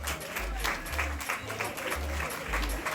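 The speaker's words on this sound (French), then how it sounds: "On peut les applaudir encore une fois, s'il vous plaît?" Another round of crowd applause for the senior women's handball team at a club ceremony, dense continuous clapping from many people with low thuds beneath.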